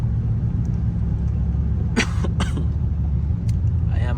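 Two short coughs from a person who is under the weather, heard over the low steady rumble of a Scat Pack 392 interior during a rainy nighttime drive.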